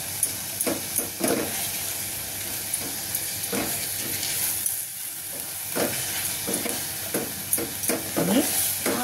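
Onions for a fish curry being sautéed in oil, with a continuous sizzle broken by repeated scraping spoon strokes against the pan, close by and moderately loud.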